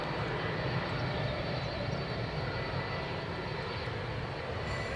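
Boeing 757 airliner engines roar steadily at Edinburgh airport, a continuous broad rumbling drone heard from some distance, fairly faint and without talk.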